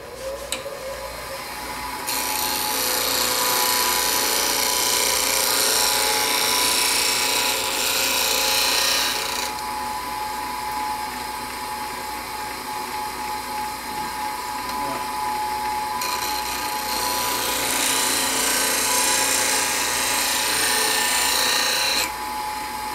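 A woodturning tool is sharpened on a grinding stone: a steady grinder hum with two long, loud bursts of harsh grinding hiss as the steel is pressed against the wheel, separated by a quieter stretch of running motor.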